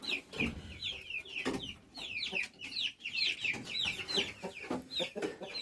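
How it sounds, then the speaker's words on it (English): Young and medium chickens clucking inside a coop, a busy overlapping chorus of short nasal clucks and chirps, fairly close and continuous with soft scuffling beneath. "today's the day that the medium chickens are going to get incorporated into the flock"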